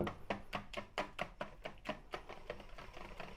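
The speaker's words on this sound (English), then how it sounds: "So now I'm going to whisk that in" A whisk beats lemon curd mousse in a bowl with a quick, steady rhythm of about a dozen sharp strokes that ease off toward the end. Each stroke is close and crisp.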